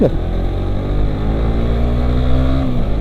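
A Suzuki GSX-R 150 motorcycle engine revved hard at high RPM, loud and close, holding a steady droning pitch before dropping off near the end, with no talk.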